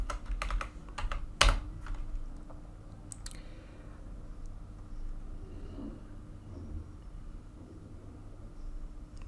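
Fingers tap a computer keyboard in a quick burst of sharp clicks, with a loud clack among them, then several isolated keystrokes before a stretch of faint room hum.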